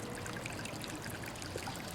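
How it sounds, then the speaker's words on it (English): Water gushing and trickling steadily out of a pool vacuum hose during manual pool vacuuming, a continuous close splashing pour with no talk. "Now the vacuum is puking water out."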